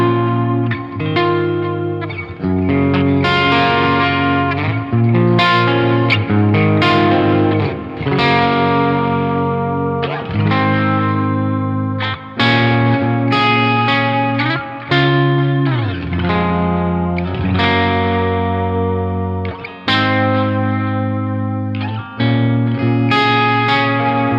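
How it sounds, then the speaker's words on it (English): A guitar in very low E1 tuning plays sustained chord voicings through distortion and effects, giving a thick, wavering tone with a series of strums ringing out in steady succession. No voices. "it just sounds like a normal guitar tuned normally, sounding really nice, playing nice chord voicings"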